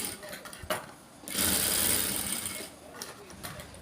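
A sewing machine stitches blouse fabric in short mechanical bursts, with a longer steady run of whirring in the middle and quieter clicking stops around it.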